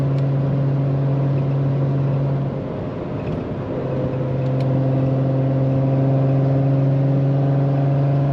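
A 1979 Datsun 280ZX with the fuel-injected L28E straight-six and five-speed gearbox pulls steadily in overdrive, a loud, continuous engine drone with steady harmonics that dips briefly mid-way, then climbs on without pause.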